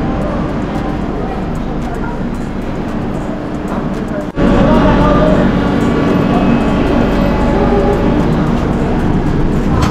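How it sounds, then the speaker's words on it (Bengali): A passenger train departing for New Jalpaiguri, heard from inside the coach as a loud, steady rumble that drops briefly and then surges louder midway. "তো আমাদের ট্রেন ছেড়ে দিল"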